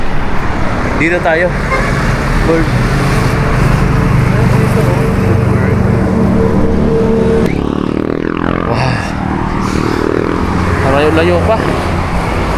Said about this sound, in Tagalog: Nakakatakot sa bandang gilid, mabibilis yung mga sasakyan.